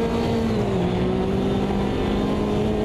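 A Porsche race car in Automobilista 2 holds a steady high-pitched engine whine with faint tonal shifts, a continuous loud drone with no voices.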